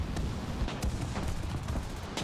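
Aircraft machine gun fire from an I-153 Chaika biplane in War Thunder: a few sharp bursts cut through a dense, steady rumble of engine and wind, fairly loud and close throughout.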